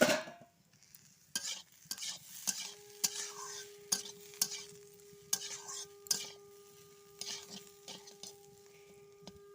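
Potatoes frying in a pan over a home cooking fire, heard as soft sizzling with repeated stirring scrapes and clinks of a utensil against the pan, plus a steady faint tone in the background.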